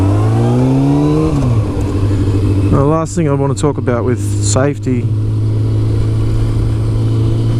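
A Kawasaki ZZR600 motorcycle engine on the road, a constant loud drone whose pitch climbs and then settles into a steady cruise, with someone talking over it midway.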